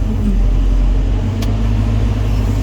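A Caterpillar CAT320GX excavator engine runs flat out at full power in its top-speed working mode, making a loud, steady, unbroken low drone throughout.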